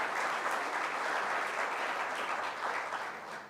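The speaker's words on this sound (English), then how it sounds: "Let's give a nice round of applause." Steady, dense clapping from an audience at a citizen meeting, a full round of applause held at even strength throughout, with no voices standing out.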